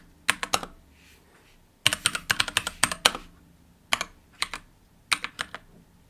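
Keys clatter on a computer keyboard in quick bursts of several strokes each, with short pauses between the runs, close and clear with no talking.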